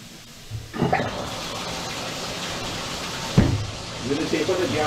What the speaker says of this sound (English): I'll turn that sink on.